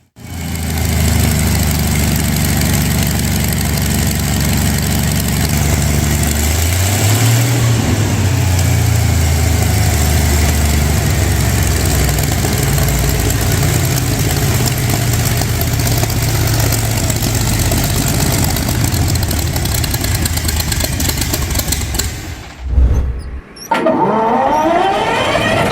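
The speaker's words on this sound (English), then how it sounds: "Starting this air-cooled V12 was an absolute nightmare" Air-cooled AV-1790 V12 engine starting from cold and settling into a loud, heavy, steady idle with deep rumbling throughout, nearby and unbroken apart from a brief dip near the end.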